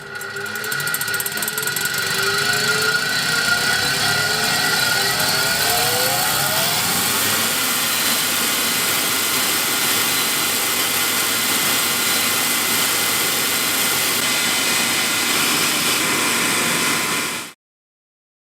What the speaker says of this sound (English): Since the motor and blower seem to work just fine